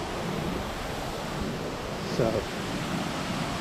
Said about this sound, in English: look back at the waterfall, which you can hear coming out underneath the dam